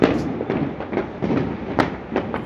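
Firecrackers burst all around on New Year's night, a dense series of sharp pops and crackles at varying distances, some close and loud, others farther off, overlapping into a continuous crackling backdrop.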